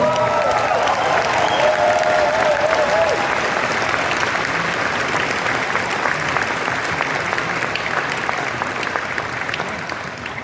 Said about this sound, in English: Give yourselves one of the biggest round of applause because you deserve it.